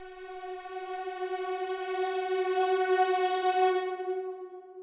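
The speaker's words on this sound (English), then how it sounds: "I have this effect swell here, which you can guess is a synth that I placed a bunch of reverb on" A reversed synth swell drenched in heavy reverb rises gradually from a soft hum to a bright, sustained tone and then cuts off abruptly, heard alone with no talk.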